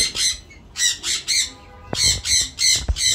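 A cream-face cockatiel from a breeding pair kept among lovebirds squawks in a series of loud, harsh, close calls, about eight bursts in a broken rhythm.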